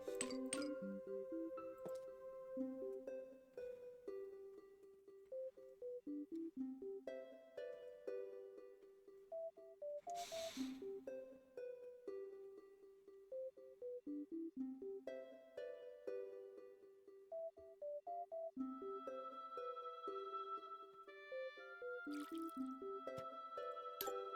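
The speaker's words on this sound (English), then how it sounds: "Anyways, let's water these guys real quick." Plants are watered in the Plants vs Zombies video game, with short splashy water bursts over a bright, plinking game melody that plays throughout.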